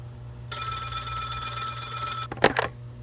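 An old-style telephone bell rings in a radio drama, one loud sustained ring of nearly two seconds followed by a short clatter.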